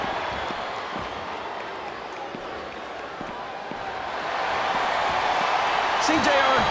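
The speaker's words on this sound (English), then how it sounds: "Listen to the crowd, JR." A wrestling arena crowd roars and cheers steadily, a broad wash of noise that swells louder toward the end, with talking over it.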